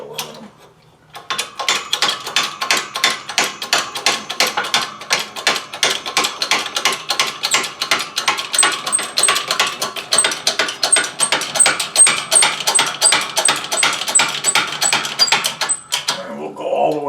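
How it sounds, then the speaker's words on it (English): A homemade press brake on a 12-ton Harbor Freight hydraulic press bends an aluminum bar, a dense run of rapid clicking, ratcheting strokes that is loud and close, keeping up for about fifteen seconds before it stops. "So we'll just put a bend in the aluminum."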